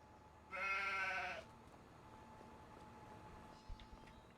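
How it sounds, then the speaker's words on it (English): A single sheep bleat from the farming video game Farming Simulator 25, a loud, wavering call lasting about a second, followed by quieter ambient game sounds and a soft thud near the end. "appears one of our sheep has escaped and he's now in the middle of the road"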